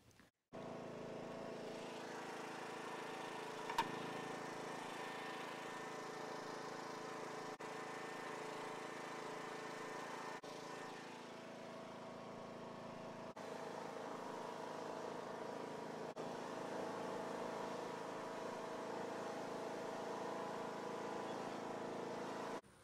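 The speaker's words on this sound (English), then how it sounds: "I will go get the lawnmower and hook it up and get on out of here." A riding lawn mower towing a wagon loaded with dirt runs with a steady, droning engine at constant loudness for over twenty seconds, close by, with a brief sharp knock near the start and no talking.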